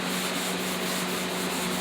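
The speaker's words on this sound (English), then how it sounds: "I'm sanding the front on these doors." Steady, continuous abrasive rubbing of sandpaper across the front of old painted cabinet doors, knocking the sheen off the finish; close, even and unbroken with no talk.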